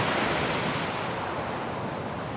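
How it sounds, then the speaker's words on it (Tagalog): Large sea waves at Luna, La Union roar as a steady, loud, close wash of surf that fills the whole stretch without pausing. "Tapos kita-kita mo pa yung malalaking alon dito ng dagat."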